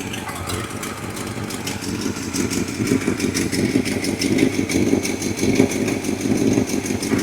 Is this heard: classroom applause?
no